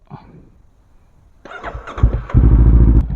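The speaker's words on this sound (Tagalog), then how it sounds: "Akrapovic aftermarket exhaust." A Bristol Venturi 500 motorcycle fitted with an Akrapovic aftermarket exhaust starts up close by, catching after a quiet moment and settling into a loud, deep, throbbing idle.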